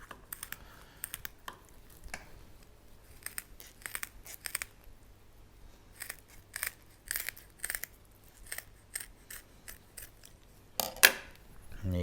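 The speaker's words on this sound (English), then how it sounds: "with our scissors, we're going to start at the tail end, and we are going to cut our way up to the top" Kitchen scissors snip through a Dover sole from tail to top, a series of close, crisp crunching cuts in irregular bursts, with a louder clatter near the end.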